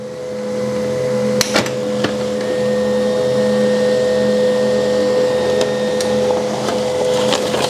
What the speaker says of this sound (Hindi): हम एक प्रिंट निकालते हैं,